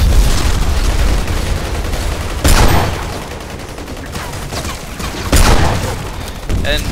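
Two heavy shots from the two-shot pirate gun in Battlefield Hardline burst out a few seconds apart over a steady wash of in-game noise.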